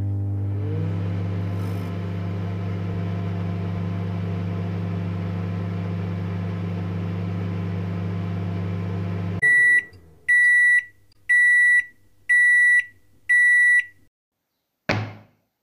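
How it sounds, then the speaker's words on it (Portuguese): In Roblox Brookhaven, a microwave oven hums steadily for about nine seconds, then stops and gives five loud, evenly spaced beeps, followed by a click of the door. "agora vou esquentar ele no micro-ondas"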